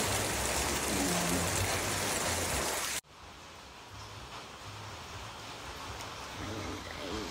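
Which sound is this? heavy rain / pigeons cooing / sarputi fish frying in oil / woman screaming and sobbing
heavy rain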